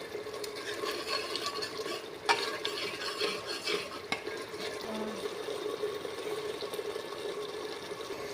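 Masala for soya and potato curry cooks in a pan with soft, continuous stirring scrapes and a low sizzle, plus occasional faint utensil taps.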